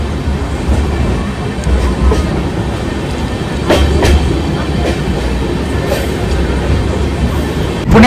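A passenger train runs on its approach into Pune station, a loud continuous rumble with rhythmic clatter of wheels over rail joints heard from inside the carriage.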